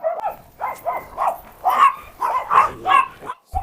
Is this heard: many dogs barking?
yes